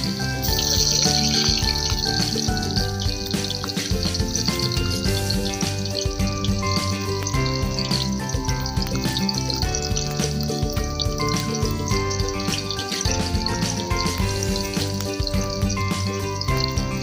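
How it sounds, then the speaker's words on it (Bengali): Continuous crackling sizzle of cut carrots frying in hot oil, steady throughout, with a melodic tonal backdrop and no talking. "তেলটা প্রায় গরম হয়েছে, সবার প্রথমে আমরা গাজরগুলোকে দিয়ে দেবো।"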